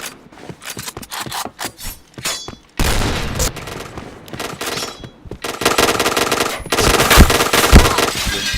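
Rapid video-game gunfire from a first-person shooter match, with dense automatic bursts and sharp single shots, loud and close, the firing building into sustained streams before stopping.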